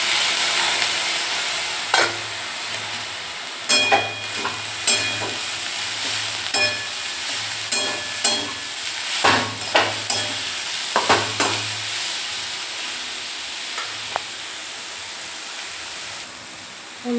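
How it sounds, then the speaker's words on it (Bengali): Lentil dumplings (bori) fry with turmeric in a pan, giving a steady close sizzle throughout. Stirring adds repeated scraping clatters over the hiss. "হলুদ দিয়ে চারিদিকে ছড়িয়ে দিয়েছি ভাজাটাকে, তাহলে সবটা বড়ি ভালো করে ভাজা হবে, লাল লাল করে।"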